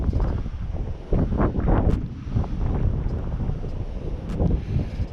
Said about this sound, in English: It's windy out today, so my sound is probably not the best